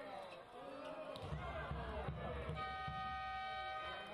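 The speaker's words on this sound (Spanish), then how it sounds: "Suena la bocina, llegamos al final de este segundo cuarto de la primera mitad de este partido" Buzzer horn sounds at the end of the second quarter of a Spanish league wheelchair basketball game, a sustained steady tone over arena crowd noise, ball bounces and a commentator's voice.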